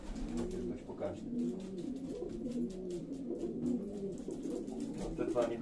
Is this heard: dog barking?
no